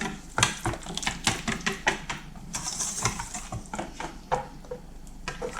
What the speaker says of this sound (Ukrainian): Все гарненько вимішую.